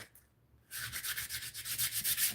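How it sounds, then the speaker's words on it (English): A part being shaved down by hand before painting, heard as a steady run of close scraping strokes in an even rhythm after a brief quiet start, with no talking. "I'm just going to kind of shave this down just a little bit"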